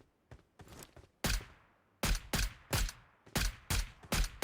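Gunfire in the mobile battle royale game PUBG Mobile, a series of sharp separate shots with short gaps and quick decaying echoes, loud and close, with no talking.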